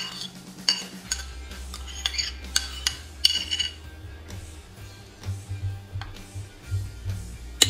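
Chicken wings being tossed in barbecue sauce inside a pressure cooker pot, with scattered clinks and scrapes of a utensil against the metal over a low steady hum, close by.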